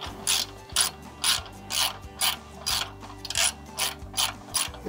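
A ratchet wrench snugs a 14 mm bolt on a torsion bar of a Kubota L4701 tractor, giving close, loud rhythmic clicking in about nine even bursts with no talk.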